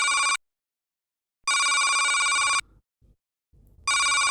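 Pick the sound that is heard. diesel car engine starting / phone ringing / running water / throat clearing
phone ringing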